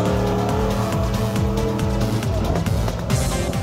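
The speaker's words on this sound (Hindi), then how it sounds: "इस मुश्किल ट्रैक पर गाड़ियां दौड़ाना ड्राइवर्स के लिए चैलेंज से कम नहीं।" Jeeps racing on the rough track of the Cold Desert rally at Sarfaranga, engines revving loudly and continuously with sweeping pitch changes as they shift and accelerate, plus hints of tire noise.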